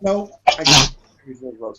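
A single sharp sneeze bursts out between bits of nearby conversation, with a person talking just before and after it.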